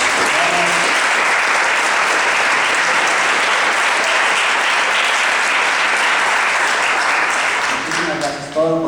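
Steady, dense applause from an indoor audience at a legal lecture, loud and continuous for several seconds before tapering off as a voice begins to speak at the end.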